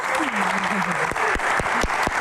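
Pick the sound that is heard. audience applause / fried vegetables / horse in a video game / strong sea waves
audience applause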